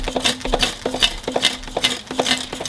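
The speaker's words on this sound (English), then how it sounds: "After 10 minutes, give it a good stir or shake to evenly cook it." Shredded smoked beef being stirred or shaken in an air fryer basket, with repeated scraping, rattling pulses in a loose, fairly steady rhythm, close and moderately loud against a low steady hum.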